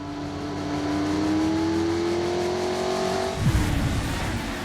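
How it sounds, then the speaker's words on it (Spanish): A high-speed race car roars past, its engine note climbing steadily into a loud whine before dropping sharply as it passes close by, with no voices. "Los pilotos conducen los coches más ligeros y veloces que los ingenieros pueden construir, y a casi 380 kilómetros por hora."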